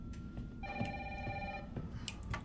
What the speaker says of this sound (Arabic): وين التليفون عم برن؟